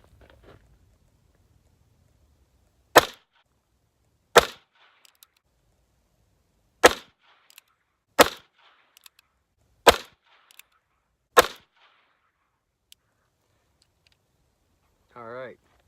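An H&R 732 revolver firing .32 S&W Long rounds outdoors, six sharp, loud shots spaced one to two seconds apart with quiet gaps between, followed by a brief faint sound at the end.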